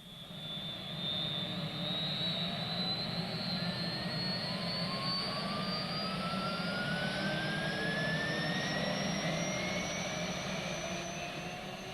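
A steady, loud helicopter engine drone with a rising whine, continuous and close throughout, no voices, in the mountains.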